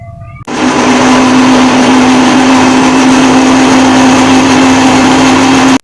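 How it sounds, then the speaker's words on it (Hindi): A kitchen grinder whirs loudly and steadily, blending yogurt and onions for an egg curry, starting abruptly and running without a break for several seconds at a constant high-pitched whine. "दही को मैं ग्राइंडर मशीन में डाल के ग्राइंड करना है इन दोनों को"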